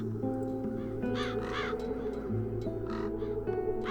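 Crows caw repeatedly in the video game Satinavs Ketten, several harsh calls in a loose rhythm over steady game music.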